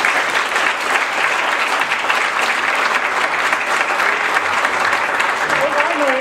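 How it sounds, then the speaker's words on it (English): Conference audience applauds steadily, a continuous dense wash of clapping from many hands that stays even throughout, with a voice faintly emerging toward the end. "I want to have everybody join in applauding Secretary Lam"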